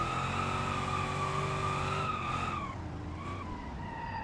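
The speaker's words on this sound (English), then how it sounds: "I'm gonna cheeky e-brake that." A car in the BeamNG driving game skids under the e-brake through a long drifting turn, tires squealing steadily over a droning engine whose pitch falls away partway through.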